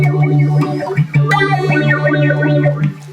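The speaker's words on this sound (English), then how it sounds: "we're running both phasers, right? We're running A into B." Electric guitar played through a Mu-Tron Bi-Phase with both phasers running, A into B, giving a swirling, sweeping tone over a steady low sustained note and chords with no talking.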